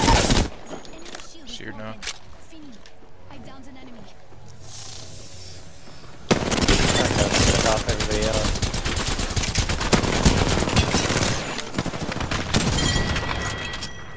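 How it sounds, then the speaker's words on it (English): Heavy gunfire from many shooters in a video game shootout, with sparse shots under a player's voice at first, then a sudden loud, sustained barrage of rapid automatic fire. "we're getting shot by a lot of people, dude"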